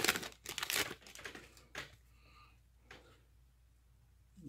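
Crinkling foil of a trading card booster pack torn open for a card game special edition, a burst of loud crackling at first that thins into sparse faint rustles, no talk.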